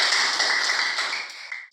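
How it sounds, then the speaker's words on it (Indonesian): Children in a Christian religious education classroom clap together in a short, bright burst of applause that holds steady and then stops abruptly. "marilah kita tepuk tangan"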